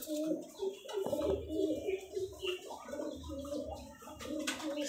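A white male Giribaj pigeon with feathered feet coos in low, repeated throaty bursts close by, with someone talking over it.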